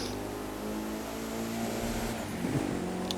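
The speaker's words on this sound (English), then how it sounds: "Just listen to that car there." A Mitsubishi road car's engine hums steadily and close in the racing video game The Crew 2, holding a constant drone with a brief rise in revs near the end.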